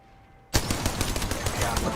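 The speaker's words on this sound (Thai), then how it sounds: "ปืนมันถ่ายโหดดีนะแบบตั้งตั้งตั้งตั้งตั้งตั้งตั้ง ปืนถ่ายโคตรโหดเลย" After a brief quiet moment, a sudden sustained burst of rapid automatic gunfire erupts in Apex Legends Mobile, loud and continuous with a dense rattling rhythm until the end.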